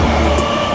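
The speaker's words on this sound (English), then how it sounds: "We're about to board our first bullet train." Japanese bullet train, a loud, dense rumble and hiss of rail travel, heard close and continuous through a brief moment.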